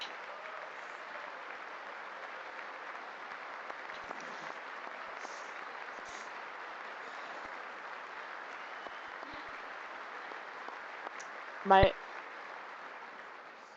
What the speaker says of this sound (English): Like, they clap too much.